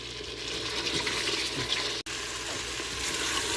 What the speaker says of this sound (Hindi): चिकन काफ़ी हद तक भून गया